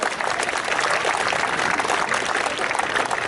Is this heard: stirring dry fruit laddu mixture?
no